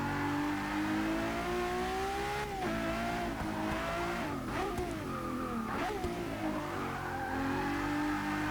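A 2011 Ferrari FF sliding in Forza 6, its engine revving and pitch-bending while tires squeal through several skids, loud and close.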